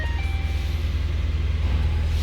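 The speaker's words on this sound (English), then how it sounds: "And yes, we have cold air. You can hear it." A 2011 Ford Fiesta's air conditioning blower fan runs steadily at close range, a constant broadband whoosh over a low engine hum, with a couple of faint tonal chimes early on and no talking.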